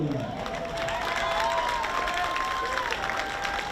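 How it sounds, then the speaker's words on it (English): Crowd applause and light cheering at a baseball game between CNMI and Palau as a center fielder is introduced, a steady moderate wash of clapping with a tonal whistle or horn line running through it. "How about a round of applause for Joseph Boy?"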